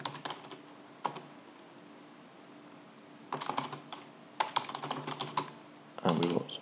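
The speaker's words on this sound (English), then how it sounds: "So if I start typing smart" Bursts of keyboard typing, close and moderately quiet, come in short clusters separated by pauses, with a final quick flurry at the end.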